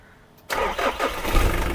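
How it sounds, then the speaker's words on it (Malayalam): A Mitsubishi Pajero SFX engine cranks in a few quick pulses after a quiet moment, then catches and runs loud and close. "സ്റ്റാർട്ട് ചെയ്യുന്ന സംഭവം വേറെ ഒന്നുമില്ല ആ സൗണ്ട് ജസ്റ്റ് ഒന്ന് കേൾപ്പിക്കാനാ"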